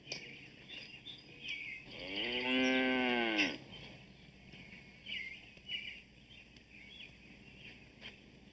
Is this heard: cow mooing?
yes